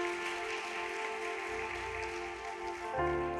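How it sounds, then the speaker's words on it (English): A church congregation at a Sunday service in Luzira claps for the choir, a dense, steady patter of many hands that continues throughout and swells slightly near the end. "Clap for the choir, for the ministry."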